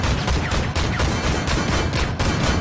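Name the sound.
M2 Bradley firing rounds in video game Armored Warfare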